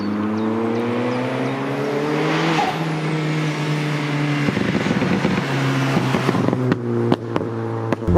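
A tuned Vauxhall Astra VXR making about 380 bhp drives along, its engine droning steadily with rising and falling pitch as it shifts through gears, loud and close throughout with a few sharp clicks near the end.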